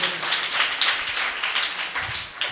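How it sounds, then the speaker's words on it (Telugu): A congregation at a Good Friday worship service claps together in a steady, brisk rhythm, with many hands blending into a continuous moderate patter with no one talking. "చప్పట్లు కొడదాం హల్లెలూయా."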